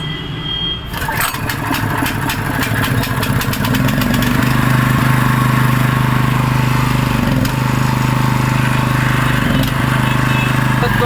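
A petrol concrete vibrator engine sputters to life after a brief quiet start, then settles into a loud, steady running drone with a rough mechanical rattle continuing close by.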